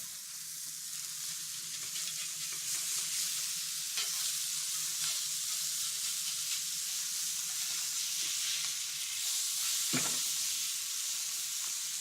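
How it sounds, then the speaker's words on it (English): Burgers sizzle and fry in a hot cast iron pan, a steady close crackling hiss throughout with one sharp pop near the end, no talking. "There's plenty of heat in this cast iron to carry these burgers all the way home."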